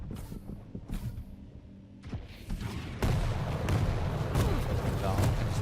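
Rockets exploding in the arena shooter Quake Champions during a competitive match, a series of heavy booms and blasts with rumbling impacts, loud and close, with a commentator talking over them.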